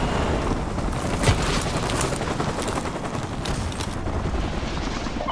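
Battlefield gunfire in Call of Duty: Modern Warfare 2 near the Washington Monument, scattered distant shots and rattling bursts over a constant rumbling din, with no single shot standing out clearly.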